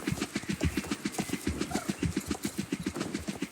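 Steady rhythmic clip-clop of a horse's hooves ridden at a brisk gait in Star Stable, even close beats repeating throughout without pause.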